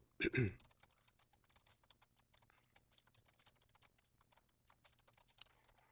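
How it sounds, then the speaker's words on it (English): Typing on a computer keyboard, an irregular patter of quiet key clicks, close and soft, after a louder opening clatter, with no talk. "then I would type a little bit of text in here"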